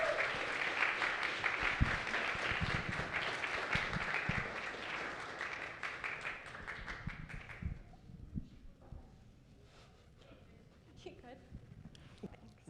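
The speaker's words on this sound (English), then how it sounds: "Round of applause again." Audience applause after an astronomy talk at an Astronomy on Tap event in San Antonio, Texas: dense clapping that fills the first eight seconds, then thins to scattered claps and murmuring voices in the room.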